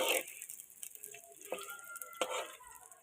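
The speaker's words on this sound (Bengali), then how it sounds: "এভাবে শুধুমাত্র একটু লবণ দিয়ে ভেজে নিচ্ছি" Frying in a pan with just a little salt while cooking a beef kacchi dish: soft, intermittent sizzle with stirring scrapes and a few clinks of utensil on metal, fairly quiet throughout.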